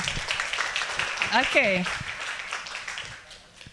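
Audience applause at a university lecture, a steady patter of clapping that runs through the whole clip while a voice speaks briefly over it.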